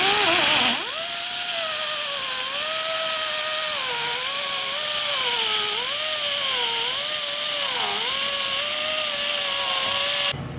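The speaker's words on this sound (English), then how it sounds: "he's just got a die grinder just going at it" A die grinder rounding out a brake backing plate on a Honda CR-V, one continuous loud close whine whose pitch wavers up and down as the tool bites into the metal, running alone for about ten seconds.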